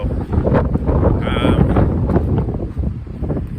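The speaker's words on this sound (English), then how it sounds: "The wind is ever present." Wind on the Pacific Crest Trail near Walker Pass buffets the microphone in a steady rushing roar throughout, loud and close, with a person talking under it.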